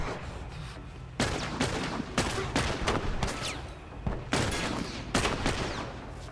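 Sniper rifle fire and gunfire in The Last of Us erupt in loud, sharp bursts, several heavy reports with echoing tails spaced across the stretch, no talking over them.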